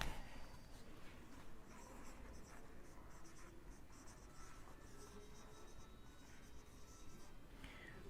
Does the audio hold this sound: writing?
yes